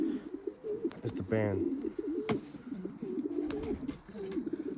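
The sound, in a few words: banded birds (pigeons) cooing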